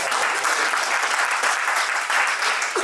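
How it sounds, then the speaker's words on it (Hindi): A crowd at a meeting in Delhi claps steadily and loudly throughout for a speaker, a dense, sustained round of applause with no talking. "इनके लिए एक ताली हो जाए"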